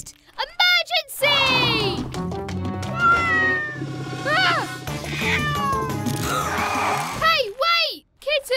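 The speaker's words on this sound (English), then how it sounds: "That kitten must be lost." A cartoon kitten mews repeatedly in a children's animated show about an emergency vehicle, high plaintive meows close and clear, interleaved with other character voices and music.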